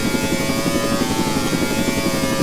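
A helicopter in the Rising City video game whirs steadily with a constant droning engine hum and rotor buzz, loud and unchanging, with no talk over it.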